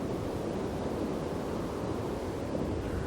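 Steady, dry wind rustles through a Kenyan village lined with palm trees, a constant broadband whoosh that stays even and loud throughout with no voices.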